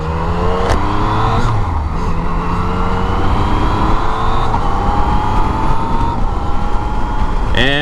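A 2018 Yamaha MT-09 motorcycle accelerating hard through quick-shifter upshifts, loud and close, with rising engine tones stepping up through each gear over rushing wind noise.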